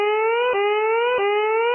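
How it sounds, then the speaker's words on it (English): Air raid sirens wail in a steady rising tone warning of a nuclear attack, loud and continuous with a couple of brief dips in pitch; no talk. "Uh-oh, the sirens. It must be a nuclear attack."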